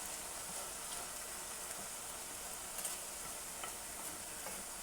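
Daylily blossoms fry in a hot cast iron pan, giving a steady dense sizzle with small crackles and pops throughout, close and continuous, with no talking.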